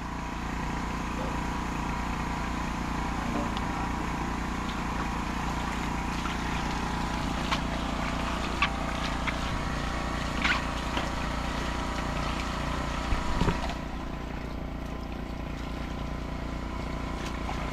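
A steady generator engine drones without a break, loud and close, with a few faint knocks and clanks over the hum, at a leaking, flooded warehouse.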